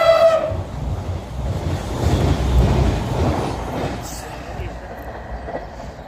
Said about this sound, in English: Cross-country service from Bournemouth to Manchester.